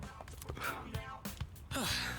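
Akihiko, a character in the video game Persona 3 Reload, breathes heavily in a few close, ragged gasps and exhales over a couple of seconds.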